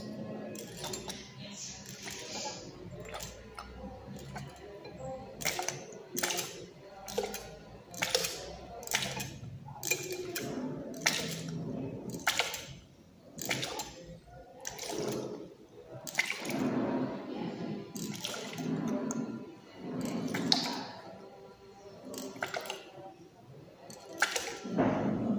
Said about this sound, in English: I'll submerge the lower tip of the lift pump into the water, and then I pull up the piston separately.